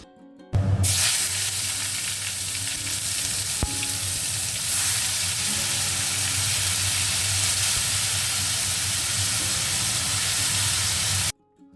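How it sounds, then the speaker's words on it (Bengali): Tomatoes hit hot oil tempered with mustard seeds, setting off a loud, steady, close sizzle that holds unbroken for about eleven seconds before cutting off. "তেলের মধ্যে সর্ষে ফোড়ন দিয়ে টমেটোগুলো দিয়ে দিয়েছি"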